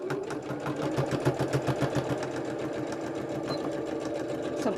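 A sewing machine runs steadily close by, stitching a hexie puff bag in a fast, even mechanical rhythm without pause.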